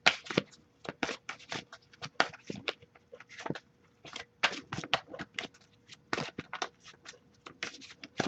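Oracle cards are shuffled by hand in quick, uneven bursts of crisp riffling and slapping, close up with short pauses between handfuls and no talk.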